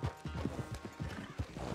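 A horse in Red Dead Redemption 2 gallops in a quick, regular rhythm of soft, close hoofbeats, with a faint whinny mixed in. The hoofbeats are fairly quiet.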